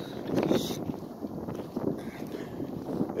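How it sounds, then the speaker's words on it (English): Wind buffets a microphone outdoors on a gusty day with a mountain nearby, a steady rumbling roar that swells and eases in waves, loud and close, with no talking. "it gets windy out here."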